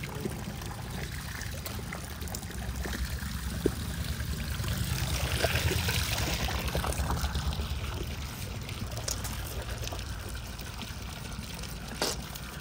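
Water runs steadily from a tap or pipe for washing hands and face, giving a continuous, fairly faint splashing trickle that swells slightly midway, with occasional small clinks.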